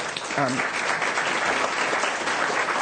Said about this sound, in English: Round of applause would be great